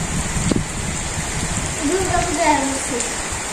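Heavy rain falls across a Bangladeshi village in a steady close hiss and patter, with a brief louder splash early on and faint voices talking underneath.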